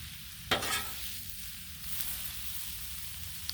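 Cabbage and kielbasa sear on a Blackstone griddle with a steady low sizzle, broken by a brief scraping stir near the start and a faint clink later.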